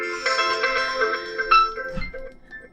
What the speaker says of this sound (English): if you want to listen how the particular ringtone sounds, you have to simply tap on it